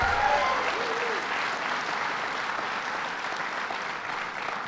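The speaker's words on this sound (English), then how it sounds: "let's give Mayor McCarthy a big round of applause" Sustained applause from an audience at a Schenectady press event at Proctors, greeting Mayor McCarthy; dense steady clapping fills the room from start to finish, fairly loud, with a faint voice briefly at the beginning.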